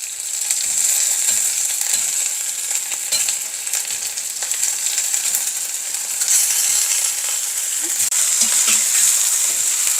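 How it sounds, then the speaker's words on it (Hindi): Garlic, green chili and ginger fry in hot oil for a potato dish, a loud, dense, continuous sizzle with scattered clicks and scrapes of stirring, close up and unbroken, no talking. "गार्लिक, ग्रीन चिली और जिंजर अब अच्छी तरह से फ्राई हो चुका है, हल्का सा ब्राउन करना है बस।"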